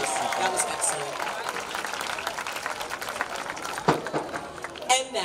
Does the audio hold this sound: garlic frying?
no